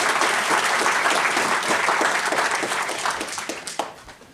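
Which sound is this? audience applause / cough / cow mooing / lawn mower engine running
audience applause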